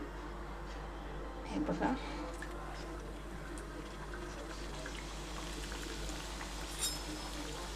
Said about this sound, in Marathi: आता तेल थोडंसं झालेलं आहे गरम, तर मी इथे समोसा टाकते.